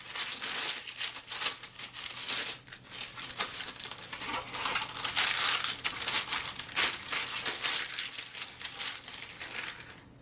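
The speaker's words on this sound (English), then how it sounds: "I'm going to go ahead and line my baking tray here with parchment paper" Parchment paper crinkles and rustles continuously at close range while it is pressed and folded into a baking tray, with dense irregular crackling bursts.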